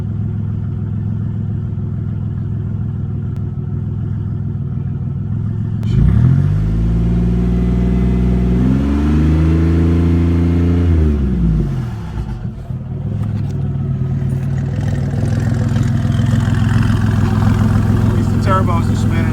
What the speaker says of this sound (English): Turbos are spinning again.